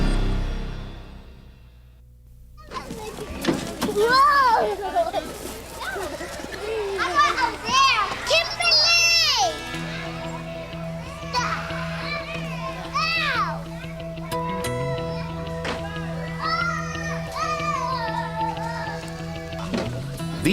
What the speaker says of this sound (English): To most of us, it's the sound of children playing.